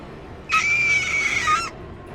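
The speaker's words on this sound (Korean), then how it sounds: "갑자기 귀를 찢은 듯한 여자아이의 날카로운 비명소리가 들리더니" A girl lets out a sharp, piercing scream, one sustained high-pitched shriek lasting about a second, loud and alone against a faint background.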